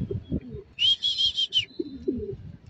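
A grey racing pigeon arriving at its loft after a 60 km race in San Pablo, Laguna, gives one short, bright chirping call between soft low murmurs and rustling nearby.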